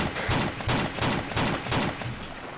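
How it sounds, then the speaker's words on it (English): A .50 caliber gun fires warning shots, about four heavy booming reports in steady succession, loud with a rumbling tail that fills the short stretch. "I was just giving him warning shots with the 50 real quick"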